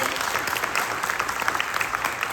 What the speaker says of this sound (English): Let's give a round of applause for Dr. Wu